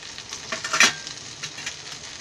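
Chopped tomatoes drop into a hot pan while cooking tondli bhaji, giving a quiet sizzle with a brief louder hiss and a few faint stirring scrapes.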